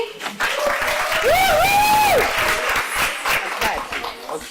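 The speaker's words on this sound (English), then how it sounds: "Guys, another round of applause for Eddie." Audience applause for a speaker at a women-in-leadership conference, steady broadband clapping with crowd noise under a voice speaking through a PA with a rising, swooping tone, filling the whole span.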